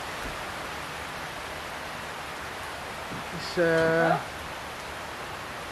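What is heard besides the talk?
heavy rain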